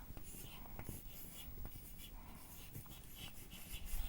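A pen scratches out an accounting entry by hand in short, faint strokes and taps, with quiet breathy voice sounds in the background.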